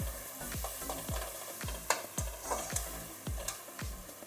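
Kashmiri red chilli powder spice paste frying in oil for a Bengali fish and brinjal curry, a steady soft sizzle broken by regular rhythmic spoon strokes scraping the pan, close and fairly quiet.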